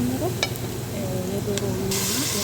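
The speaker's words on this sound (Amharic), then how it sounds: "አሁን እዚህ ጋር ሽንኩርት አበስላለሁ ማለት ነው።" Onions sizzle in a pan as they fry, with a constant crackling hiss and a clatter of stirring, plus faint tonal squeaks in the background, close and steady.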